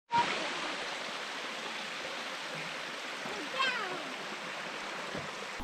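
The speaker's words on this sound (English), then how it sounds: "That's a tiny waterfall." A tiny waterfall in Revelstoke, Canada gives off a steady, faint rushing splash of falling water, continuous and even, with a brief louder burst partway through.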